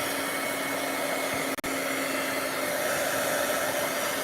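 A heat tool blows continuously over a wet, curling watercolor painting, a steady close whooshing hum with one very brief dropout, with no talking.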